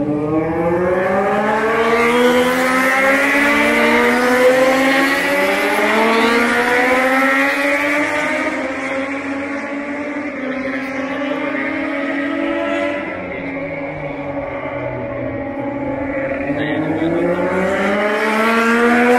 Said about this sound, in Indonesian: Kita lihat seberapa dekat motor-motor.